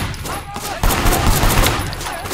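Gunfire in the video game Sleeping Dogs, a loud dense burst of rapid shots that swells after a moment and continues steadily, with no speech.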